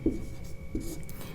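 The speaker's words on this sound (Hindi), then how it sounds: "परिभाषा में लिखेंगे" A pen writes a definition by hand during a Hindi grammar lesson. Three short scratchy strokes come about half a second apart, close and fairly clear, with light background hiss.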